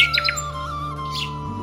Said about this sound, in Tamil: சிட்டுக்குருவி.